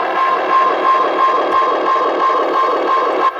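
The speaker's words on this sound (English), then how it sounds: "That is, of course, the Space Echo." Space Echo tape delay effect sounds in a music production track as a dense, sustained electronic wash with a steady tone and repeating pulses, loud and continuous with no voices.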